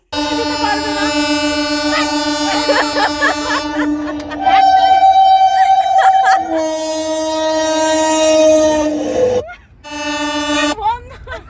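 Train sound effect with long sustained horn toots in steady tones that shift pitch midway, loud and close, briefly cutting out before resuming, with a voice speaking over the start.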